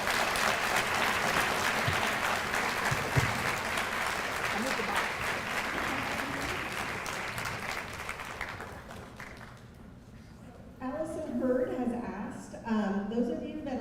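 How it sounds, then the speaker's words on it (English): An audience at a Black Solidarity Day event gives a sustained round of applause, dense clapping that fades out after about nine seconds, followed by a voice speaking. "I'm going to give you another round of applause right now."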